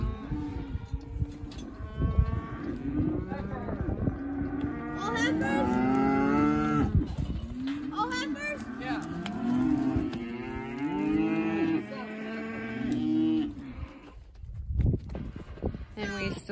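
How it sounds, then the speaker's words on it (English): Around 175 calves on a farm moo repeatedly while being sorted into heifers and steers during fall harvest; overlapping loud and distant bawls fill the scene, with some hoof shuffling and people talking. "So we have around 175 head of calves, I would say. And first we sorted heifers from steers."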